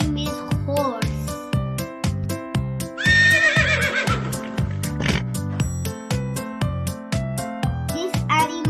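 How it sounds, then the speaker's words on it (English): A horse gives one loud, quavering neigh midway through, set over a bouncy rhythmic music track with faint clip-clop-like beats. "This animal name is horse."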